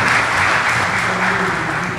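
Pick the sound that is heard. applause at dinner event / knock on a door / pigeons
applause at dinner event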